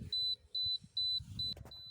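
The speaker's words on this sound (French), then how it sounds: "Alors là, ça va biper, c'est normal" A low-battery warning on a phone: five short, high-pitched electronic beeps at a steady rhythm, with muffled handling noise and shuffling underneath.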